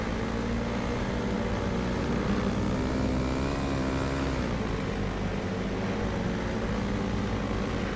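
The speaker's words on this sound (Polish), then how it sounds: "Coś źle zbiera ten motor." Continuous droning motorcycle engine from a speedway racing game at a Stockholm, Sweden Grand Prix, loud and steady throughout, pitch sagging midway as revs fall.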